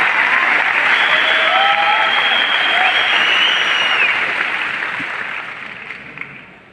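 A large indoor crowd at an award function in a Delhi stadium claps loudly for Deepak. Dense, sustained applause holds steady for several seconds, then gradually thins and fades toward the end.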